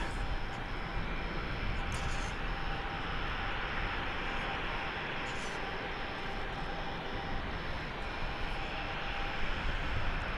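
A Vancouver-bound airliner at DFW Airport gives off a steady, broad jet engine roar, heard from a distance and holding constant for about ten seconds with no talk over it.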